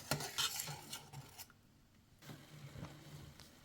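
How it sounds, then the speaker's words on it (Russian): Potato-dough vareniki are stirred gently in a pot of boiling water, with a few soft scrapes and clinks of a utensil against the pot, fairly quiet, followed by a lull and a low bubbling simmer. "Слегка перемешиваем, чтобы они не прилипли. И варим 3-5 минут до всплытия"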